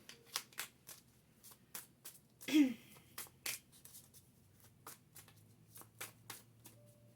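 Tarot cards from the Healing Light Tarot deck are shuffled by hand in a quiet room, producing a series of short, soft riffling and flicking bursts in an uneven rhythm.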